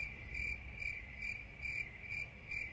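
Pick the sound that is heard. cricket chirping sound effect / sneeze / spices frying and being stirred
cricket chirping sound effect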